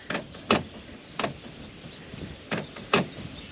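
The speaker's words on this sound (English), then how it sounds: "you can hear the door locking" Door lock mechanism on a Lexus LS430 cycling in a workshop, giving four or five short, sharp mechanical clunks spaced irregularly, close by against quiet background.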